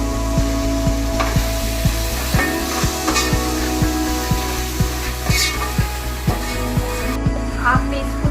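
Ginger garlic paste fries and is stirred in fresh oil, a steady close sizzle with regular scraping strokes of a spoon through the pan; a soft voice is occasionally present.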